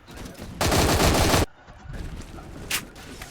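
A short, loud burst of automatic gunfire lasting under a second in a Phantom Forces match, followed by fainter scattered shots and background game noise.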